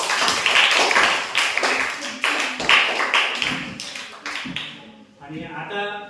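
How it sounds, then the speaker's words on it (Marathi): Studio audience clapping for a contestant on the Marathi quiz show Kaun Banega Dnyanpati, a burst of sharp, fairly close claps that thins out toward the end, heard alongside a host's voice. "अश्विनीसाठी जोरदार टाळ्या"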